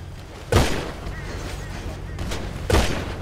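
Two loud, sharp gunshot bursts in the GTA video game, a couple of seconds apart, each fading out over a steady background of game noise.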